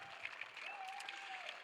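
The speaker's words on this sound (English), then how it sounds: "How about a big round of applause for our runners-up, Jamie Burdekin, Andy Lapthorne." An audience applauds at a wheelchair doubles tennis final, steady clapping that carries on throughout at moderate loudness, with no voices over it.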